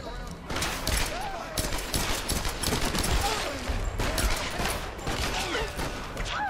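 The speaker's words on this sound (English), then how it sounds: "Quit shooting me." Rapid gunfire in the Tomb Raider video game rattles in dense bursts aimed at the player, nearly continuous over several seconds, mixed with other game effects and a voice talking over it.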